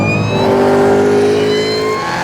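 A Cadillac CT5-V Blackwing's V8 engine revs hard and holds a loud, steady roar, close up and continuous, with no voices.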